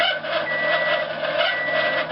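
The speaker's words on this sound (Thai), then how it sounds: "นี่คงจะเป็นพัดลมดังนะครับ" A faulty microwave oven running with a noisy fan, its dark interior light blown and turntable not spinning, giving a steady loud whirring hum with a faint tonal whine and no speech.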